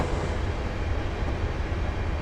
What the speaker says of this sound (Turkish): karşıdan tren geliyor